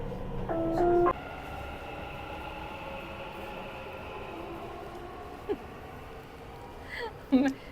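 Low steady rumble of a metro train running, with a brief tonal chime early on and a few faint clicks and knocks.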